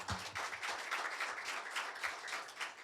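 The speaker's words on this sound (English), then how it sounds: "Smile and clap for your children." An audience of parents claps for a children's show, with dense, steady applause from many hands filling the whole moment.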